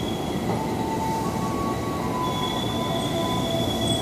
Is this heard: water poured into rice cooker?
no